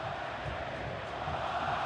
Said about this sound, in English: He's going to get the whistles from the crowd.